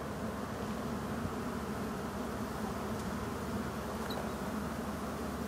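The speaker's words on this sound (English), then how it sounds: "If the queen flies back up here, the bees will just relocate back up into this tree." A swarm of bees hums around a tree branch, a dense, continuous buzz that stays loud and close throughout.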